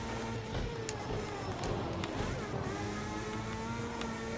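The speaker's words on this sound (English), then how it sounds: "that was a pretty good braking zone into there with some downshifts" Formula 1 car braking hard and downshifting into a corner at Monza in a racing game, a steady engine drone with sharp rev blips and falling pitch sweeps, loud and continuous throughout.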